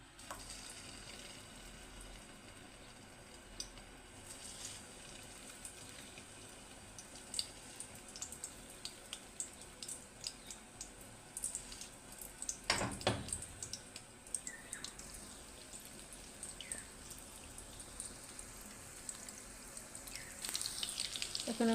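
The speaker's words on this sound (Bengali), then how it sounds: "পকোড়া ভেজে নেব।" Marinated puti fish pakoras fry in hot oil, a quiet steady crackling sizzle with scattered sharp pops and a louder burst of sputtering midway, heard close and without talk.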